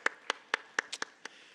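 Scattered claps from a church congregation after the Lord's Prayer, about seven sharp separate hand claps over a moment, fairly faint and uneven rather than a full round of applause.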